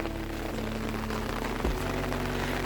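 Heavy rain pouring down in the hills around Khajjiar near Dalhousie, a continuous dense hiss of drops with a steady low rumble underneath, with no voices heard.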